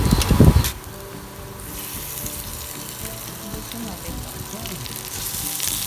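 Chicken pieces for a chicken curry hit hot oil with a loud initial splash and hiss, settling into a steady, fairly close frying sizzle that holds for several seconds.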